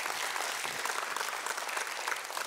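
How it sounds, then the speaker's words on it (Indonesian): Church congregation clapping together during a sermon, a dense, continuous patter of many hands heard at a moderate distance, steady from start to finish. "Mari kita tepuk tangan dulu untuk Tuhan Yesus."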